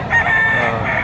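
A rooster crows loudly and close by at a chicken market in Padre Garcia, Batangas, one sustained crow over a dense crowd murmur and other fowl noise.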